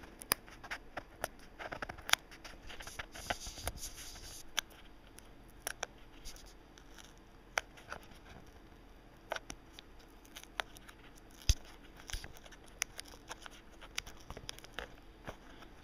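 Cardboard and plastic packaging on a Pier Solar reprint game box is opened and torn. Scattered crinkles, clicks and sharp rips sound close and fairly quiet, with no talk.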